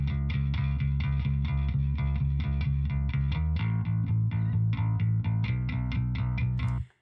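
A driven, gritty bass guitar through a SansAmp amp simulator plays a steady repeated eighth-note riff, shifting pitch midway, then stops abruptly; no one speaks.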